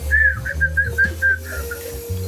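A pet bird whistles a series of short, bright, repeated notes close by, a steady chirpy run over low background hum and room noise, with a comedic Betawi household scene around it.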